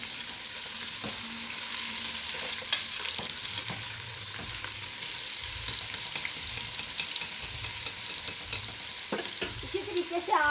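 Aubergine and potato pieces fry in a pan with a constant close sizzle. Repeated scraping and knocking stir strokes break through it, with a louder clatter near the end.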